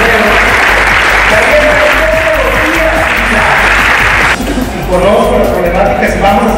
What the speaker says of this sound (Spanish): También les pido que den un fuerte aplauso